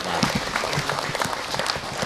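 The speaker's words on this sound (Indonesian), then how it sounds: "kita beri tepuk tangan dulu" An indoor audience at a community gathering in Brebes bursts into steady applause, a dense, close roar of many hands clapping with no break.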